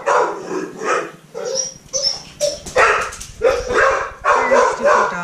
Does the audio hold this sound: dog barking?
yes